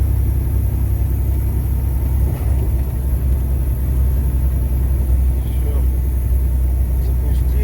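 A car engine that has just been started in a freezing blizzard at minus 32 settles into a steady, close, low idle rumble that runs the whole time.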